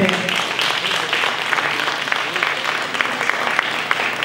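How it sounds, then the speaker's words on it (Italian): An audience at a charity fashion and entertainment show in Italy applauds steadily, a dense, sustained patter of many hands clapping that fills the room, with some voices mixed in. "Luca Longo, facciamo un applauso, dai, sempre."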